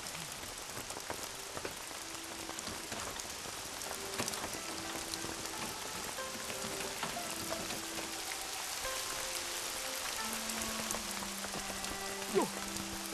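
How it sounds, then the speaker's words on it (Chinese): Steady rain pouring down on surfaces in a period drama street scene, a dense continuous hiss with scattered drops and faint voices far in the background. "说下雨就下雨。"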